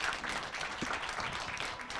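Dense audience applause in a hall closing a 2017 junior college president summit, a continuous wash of many hands clapping at moderate volume, with faint voices mixed in.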